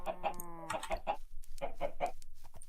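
Chickens in the Minecraft video game clucking in a quick series of short, close, repeated calls, with no talking over them.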